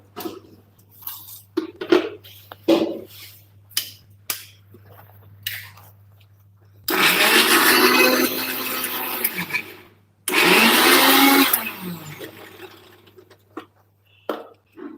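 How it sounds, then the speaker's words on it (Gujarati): A kitchen mixer grinder grinding a salted spice mixture for bhungara batata potatoes, roaring in two loud whirring bursts of a few seconds each as the motor spins up and winds down, with scattered clicks and knocks of handling before and after. "આ બધું મિશ્રણ પહેલા એક વખત પીસી લેશું"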